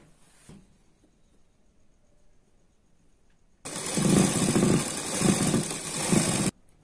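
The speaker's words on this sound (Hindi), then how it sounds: "सबसे पहले यहां पे सिलाई लगाएंगे।" A sewing machine stitches a seam on a princess-cut blouse. After a quiet start, its motor whirs loudly and steadily for about three seconds with a rhythmic pulsing, then stops abruptly.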